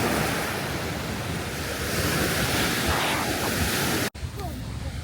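Steady rushing surf rolls in from the sea at a beach in Sihanoukville, Cambodia, close and continuous, with wind buffeting the microphone and a brief dropout near the end.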